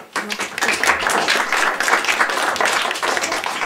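Audience applause fills a room at a Jára Cimrman tribute event, a steady wash of many hands clapping for a few seconds without a break.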